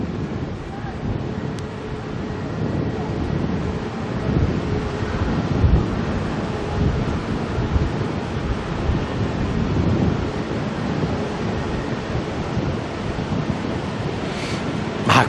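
Strong gusting wind roars over the microphone at Auckland Airport during a live night of plane spotting, a steady broadband rush with surging gusts that continues throughout.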